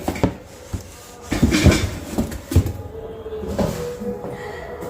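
Steel frying pan handled during an unboxing at home, giving a series of irregular metallic knocks, clatters and scrapes, some sharp and close, spread across several seconds.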